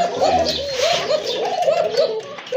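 Domestic pigeons at a breeder's loft coo in repeated rolling phrases, close and fairly loud, with a male and female calling together over light background noise.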